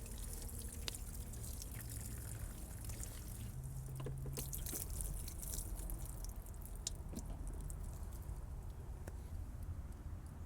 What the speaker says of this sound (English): I let the fluid drain.